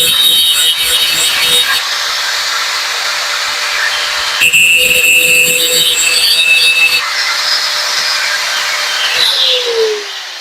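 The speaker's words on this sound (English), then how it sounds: "I have to grind it a little bit." A cutter grinds steadily on a Coleman mini bike handlebar riser, a harsh, continuous rasping whine with brief pauses and shifts in pitch as the tool bites into the metal.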